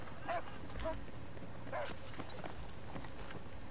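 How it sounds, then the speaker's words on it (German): A dog in the video game Battlefield 3 gives a few short barks and yips amid steady in-game ambience and footsteps, fairly close, with players talking briefly. "Ist das hier ein Hund? Der will nichts von uns."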